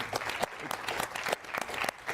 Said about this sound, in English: you all deserve a great round of applause for really participating in this discussion